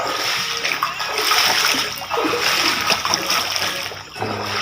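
Fish splashing in floodwater that has turned a village into something like a sea, heard as continuous rushing, sloshing water with scattered splashes and churning close by, no talk.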